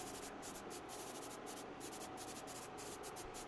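Airbrush spraying an off-white base coat onto a hand-made bluegill swimbait, a steady close hiss with brief rhythmic interruptions as the trigger is released and pressed again.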